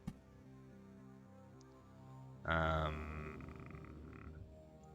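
Frog people croaking in the game Loop Hero: a sudden loud guttural croak bursts in halfway through and fades over a couple of seconds, with steady game music underneath.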